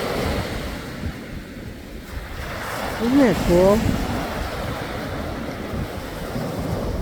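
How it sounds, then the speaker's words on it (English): Atlantic Ocean surf rolls and breaks along the shore in a steady wash with wind noise, while a person exclaims briefly over it. "There's nothing like the waves."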